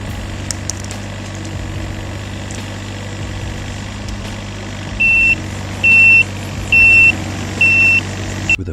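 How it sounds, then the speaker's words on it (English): A mini excavator's engine runs in a steady, low drone while it moves logs in a forest, and four short, evenly spaced beeps ring out near the end. "this mini excavator moves logs like it's second nature"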